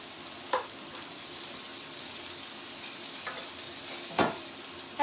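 Oil sizzles and crackles steadily in a pan while cooking a cauliflower gratin, with a few sharp stirring clinks and spatters standing out over the constant frying hiss.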